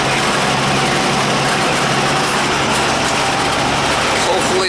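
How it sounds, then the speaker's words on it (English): An outdoor air conditioning unit runs with only its fan turning while the compressor stays off, a steady broadband whir and rush holding constant at close range throughout, with a faint low hum beneath. "He says the fan's running outside, but it don't sound like the compressor's running"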